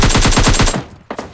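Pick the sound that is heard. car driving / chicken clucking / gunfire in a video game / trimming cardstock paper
gunfire in a video game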